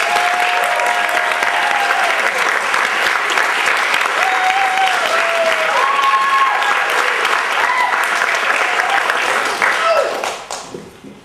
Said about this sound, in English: I would like to have a nice, warm round of applause